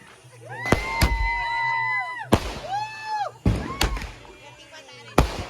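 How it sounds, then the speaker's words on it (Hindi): Diwali firecrackers in Chhattisgarh burst in several sharp, loud bangs, scattered between whistling, rising and falling rocket tones, with people chattering and cheering around them outdoors. "तो अब इसका ही पटाखा चला दो फट फट"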